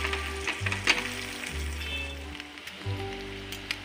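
Egg-coated bread fries in a pan with a steady, close sizzle and crackle, a few louder pops and scrapes breaking through as the slice is pressed and turned.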